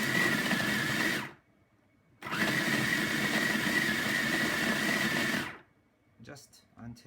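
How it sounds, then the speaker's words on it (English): An electric grinder whirs loudly for about a second, pauses, then runs again for several seconds while grinding spices for lamb keema curry, followed by a few faint clinks as it stops. "we're gonna go ahead and grind it up"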